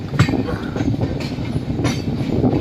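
Train rolling past a station platform in India, a steady rumbling wagon noise with faint clickety-clack of wheels, continuous and fairly close throughout, no voices.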